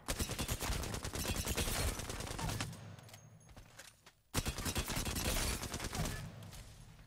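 Rapid bursts of gunfire from a shooting video game played with a controller, dense volleys that pause briefly near the middle before resuming at full loudness, with no talk over them.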